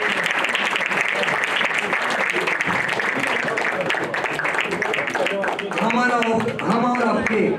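An audience at a school convocation ceremony in Nagpur gives loud, dense, sustained applause that fills the whole span, with some voices mixed in near the end.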